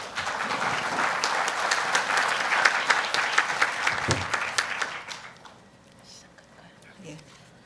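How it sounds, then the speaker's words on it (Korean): Conference audience applause at the opening session of a global ombudsman conference, a full round of clapping that holds steady, then fades out into a quieter hall with some faint movement. "큰 박수로 맞이해 주시기 바랍니다"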